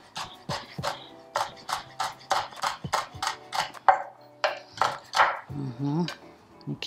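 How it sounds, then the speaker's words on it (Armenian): A knife slices a red bell pepper into very thin strips on a cutting board, a fast, steady run of about a dozen crisp, close chops, then a short pause and a few more cuts with faint handling sounds. "կտրատում եմ շատ բարակ շերտերով։"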